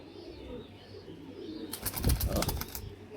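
Young female racing pigeons break into a sudden burst of fluttering wings partway through, eager to fly. The close flapping rises sharply over faint background coos and then fades.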